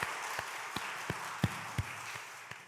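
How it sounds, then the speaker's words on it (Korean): A few people in a church congregation at a Sunday afternoon service clap in thanks for the students, giving roughly eight sparse, irregular, fairly soft claps against a quiet room rather than full applause. "우리 학생들의 감사 박수 한번 하겠습니다."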